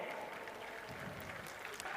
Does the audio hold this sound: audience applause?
yes